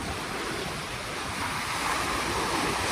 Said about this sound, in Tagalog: malakas pa din po ang hangin at alon